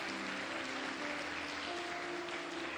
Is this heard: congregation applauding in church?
yes